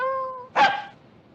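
A person imitates a dog with a can tied to its tail: after a steady tonal whine, one sharp yelping burst fades quickly, alone and fairly loud.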